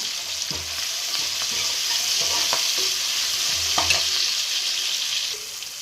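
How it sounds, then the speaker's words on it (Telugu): A handful of cashew nuts fries in a pan with tomato masala for prawn biryani: a loud, steady sizzle with repeated clicking stirs and scrapes of a spoon throughout. "ఇప్పుడైతే నేను ఒక గుప్పెడు జీడిపప్పులు అయితే వేసుకుంటాను"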